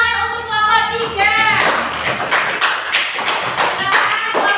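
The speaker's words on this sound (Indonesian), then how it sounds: "Tepuk tangan untuk kelompok 3." Classroom applause for a student group, a burst of mixed clapping rising after a sustained harmonic tone at the start, then rough irregular claps and thumps continuing at moderate loudness.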